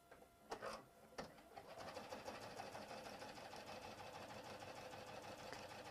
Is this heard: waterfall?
no